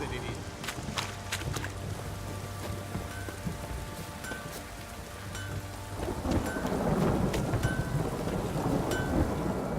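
A heavy downpour with thunder in The Witcher 3, steady loud rain on surfaces with rolling thunder rumbles, the rain intensifying toward the end.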